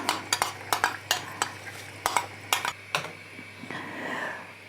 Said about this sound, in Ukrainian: в проварену трішечки капусту всипаю пшоно